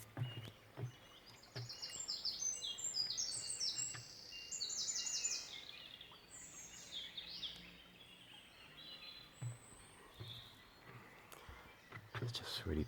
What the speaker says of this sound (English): listen to the peace and quiet, lovely sound of birds singing